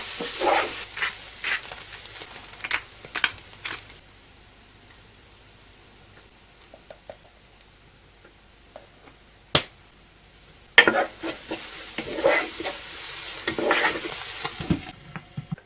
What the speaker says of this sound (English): I'm just going to keep stirring this as it fries